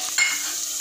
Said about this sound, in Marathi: शेंगदाणे छान परतवून घेऊ आपण सगळं साहित्य